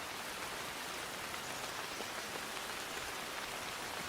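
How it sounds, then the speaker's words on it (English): Steady rainstorm from the video game Princess of World's End, a dense even hiss of falling rain on surfaces, constant and moderately quiet with no voices. "Normally, find shelter somewhere in a rainstorm like this."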